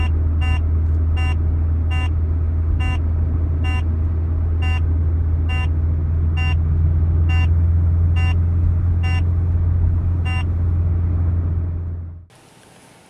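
A K40 radar detector's rear-signal alert sounds inside a moving car: a steady series of regularly spaced electronic beeps over loud road and engine hum, ending abruptly as the cabin noise cuts off.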